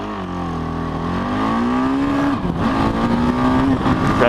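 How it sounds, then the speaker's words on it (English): A 2014 KTM Duke 690 motorcycle engine revs hard in first gear, pitch climbing quickly up to the rev limiter, where it bounces and holds; loud and close throughout. "Rev limiter comes pretty quickly in first gear there."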